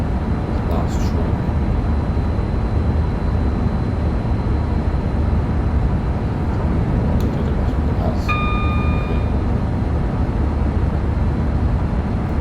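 A train rumbles steadily along the West Coast Main Line in the Train Sim World game, a loud continuous drone with a brief horn-like tone near the end, under intermittent talking.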